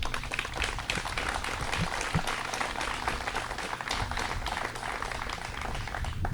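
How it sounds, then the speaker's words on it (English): Sustained applause from an outdoor audience at a breast cancer charity motorcycle ride stop, steady dense clapping with a steady crowd wash throughout. "Let's give him a round of applause."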